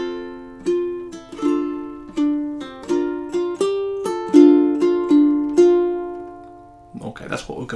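Ukulele picking out two measures of the melody of a song, a steady run of about a dozen clear plucked notes ringing over a soft low hum, closing with a brief burst of noise at the end.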